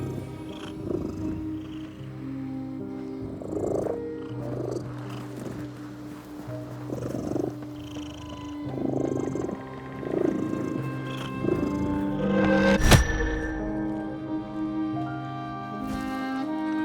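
A cat purrs in the video game The Midnight Walk, a close, steady rumbling purr in rhythmic pulses about every second and a half, with a sharp click near the end and no talking.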